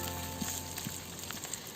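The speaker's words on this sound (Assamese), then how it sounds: "তাত অকণমান তেল দি লৈছোঁ তাৰপিছত ইয়াত মই পিঁয়াজ আৰু জলকীয়াখিনি দি দিম" Onion and green chilli fry in a little hot oil in a wok, producing a continuous close sizzle and crackle with a couple of soft taps from a utensil, and no one speaking.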